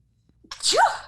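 A single sharp human sneeze, close and loud, rising quickly from a brief intake of breath and then fading.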